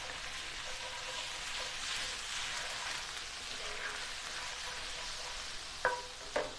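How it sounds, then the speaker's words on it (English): Marry Me Chicken sizzling in a pan while a spoon stirs it, a constant frying hiss with faint scraping and two sharp clinks near the end. "I'm just going to stir this up"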